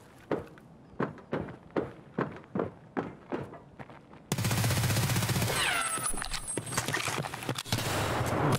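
Gunfire in Escape From Tarkov on the Reserve map: evenly paced footstep thuds give way to a sudden, sustained loud burst of rapid shots and noise filling the rest of the clip, with no voices.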